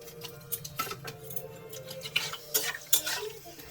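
Maggi noodles being stirred in a pan at home, with a few soft scrapes and light knocks of a utensil against the pan, close by and fairly quiet, with no talking.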